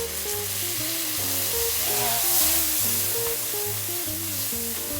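Strong, continuous sizzle of sauce hitting a hot wok edge while cooking spiced pork cube patties, a bright hissing fry that swells slightly midway, with background music and no speech.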